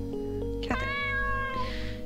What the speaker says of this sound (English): This guy still has a cat?